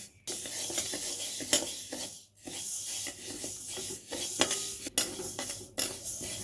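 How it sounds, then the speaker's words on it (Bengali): Moong dal dry-frying in a pan is stirred constantly, giving a continuous close rasping and scraping with brief pauses and a few sharper knocks of the utensil against the pan. "যতক্ষণ মুগ ডালটা ভাজা না হবে ততক্ষণ হাত কিন্তু চালাতে হবে"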